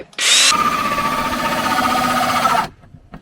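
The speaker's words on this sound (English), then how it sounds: "I've been given the first task of drilling holes in our mattress base" Power drill boring holes into a van's mattress base, a loud whirring burst of about two and a half seconds starting sharply and winding down, no talk.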